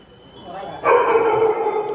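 A small dog yaps and barks close by at the Sharanabasaveshwara temple in Kalaburagi, a sustained burst of high, sharp barking that rises out of a quiet outdoor background.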